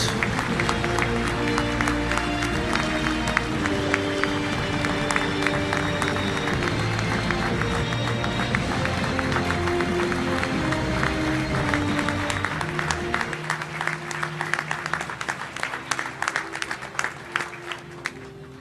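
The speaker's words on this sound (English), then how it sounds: "Round of applause for all of our finalists." A luncheon audience at a touchdown club applauds high school football finalists, sustained clapping mixed with a crowd and a tonal background for over twelve seconds, then thinning into scattered claps near the end.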